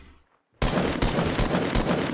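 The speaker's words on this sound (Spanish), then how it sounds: "podemos dispararlo" A brief quiet gives way to a sudden burst of rapid automatic gunfire from a silenced legendary assault rifle in a shooter game, dense repeated shots continuing loudly to the end.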